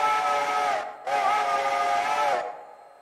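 A GCE step top 5-chime steam whistle in the Railroader train game sounds two loud, close blasts: a shorter one, a brief gap, then a longer one that trails off, with no talk.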